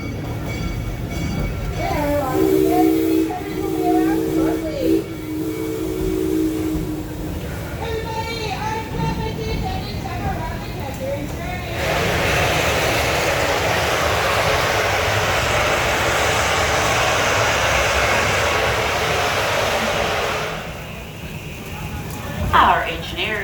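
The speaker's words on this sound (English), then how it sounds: "Our engineers have just released some excess steam from the boiler" People talk over a rumbling background at a Six Flags St. Louis amusement park railroad, then a loud, broad hiss of a steam locomotive venting excess boiler steam bursts out and holds steady for several seconds before cutting off.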